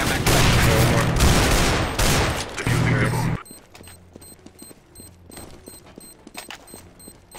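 Gunfire in CS:GO, a dense roar of rapid shots at first, then quieter scattered clicks and small mechanical sounds, near, with no talk.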